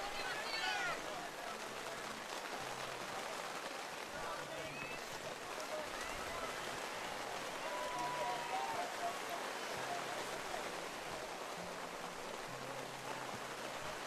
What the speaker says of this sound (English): the combination of the rain plus the wind has to make it a little bit harder to run in